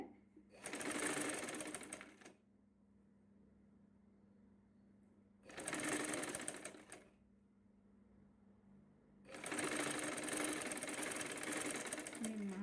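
A sewing machine stitches a saree jacket in three bursts, two longer runs framing a short one, each loud and close with quiet pauses between.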